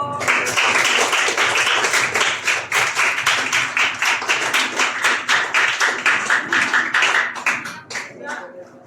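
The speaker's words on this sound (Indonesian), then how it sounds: "Oke, tepuk tangan dulu." Students in a classroom clap together in a loud, sustained round of close, sharp claps with a steady rhythm, tapering toward the end.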